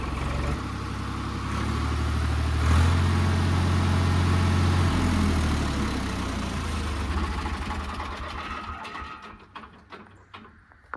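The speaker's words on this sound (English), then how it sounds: "Oh, this 3-cylinder diesel, guys, it sounds amazing." A three-cylinder diesel engine on a Ford 3910 tractor chugs loudly and steadily up close, its low rumble easing off toward the end as mechanical clatter takes over.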